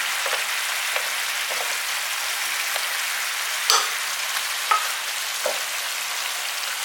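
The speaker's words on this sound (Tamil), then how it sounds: "இப்போ தக்காளி சாஸ் வந்து நல்லா கொதிச்சுக்கிட்டு இருக்குது." Tomato sauce with capsicum bubbling in a pan, a steady dense sizzle with scattered small pops and a few louder spits, no voices.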